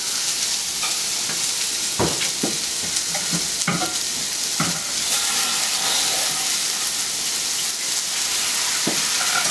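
Vegetables sizzle loudly in a pan for a shirataki dish, with a constant bright frying hiss and occasional scraping stirs of a utensil, close and with no talking.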